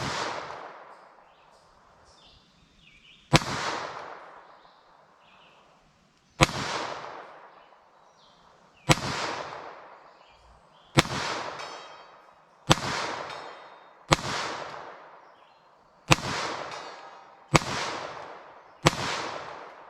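CCI Uppercut .22 LR jacketed hollow point rounds fired at a target outdoors crack out one at a time, ten sharp loud shots with ringing decays, spaced irregularly and then faster toward the end.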